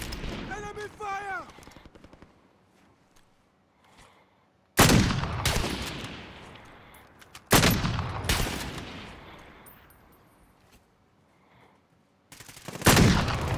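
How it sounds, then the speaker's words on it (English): Bursts of enemy gunfire in a multiplayer shooter game crack loud and sudden in several separate volleys, each fading into a short decay, with talk from the players at the start. "Enemy fire!"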